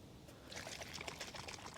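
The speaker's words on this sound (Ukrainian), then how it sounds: "заливаємо водою з водойми до повного" Pond water poured into a measuring cup with liquid and fluoro-fluid for fishing bait, a quiet, steady trickle and splash beginning after a brief pause and continuing close and soft to the end.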